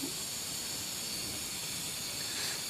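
Milk comes to a boil in a pot, giving a steady, faint broadband hiss of steam and bubbling that holds evenly throughout with no talk.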